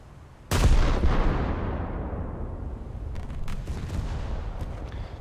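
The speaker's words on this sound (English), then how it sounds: "those guns are really loud" Naval warship guns fire in a game with a single loud, sharp blast that rolls into a long, booming rumble, followed by faint distant rumbles and a few smaller reports.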